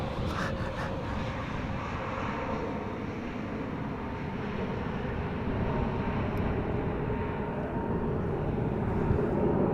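Chinese airline Boeing 777 climbing away from runway 24 at Amsterdam Schiphol: a steady, broad jet engine roar heard from a distance, with some wind buffeting the microphone.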